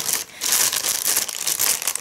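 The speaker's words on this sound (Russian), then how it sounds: "Вот такой пакетик было запаковано это все. Я тут его порвала." A torn plastic packet that held powdered milk or nuts crinkles and crackles up close, in a steady run of rustling bursts with no voices.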